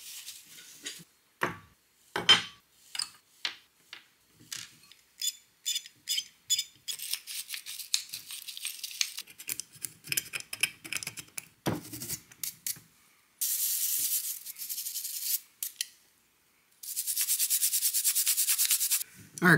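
Wire brush scrubbing a Honda EM400 generator carburetor and its bowl: bursts of short, dry rubbing strokes in uneven rhythm, close and fairly quiet, ending in longer sustained hissing scrubs.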